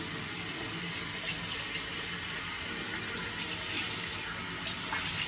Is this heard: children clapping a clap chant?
no